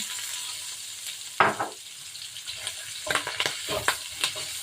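Carrots tossed into a hot pan of Filipino igado, a sudden loud sizzle on contact followed by continuous frying crackle and several stirring scrapes, close up.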